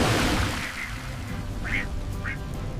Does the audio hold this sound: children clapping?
no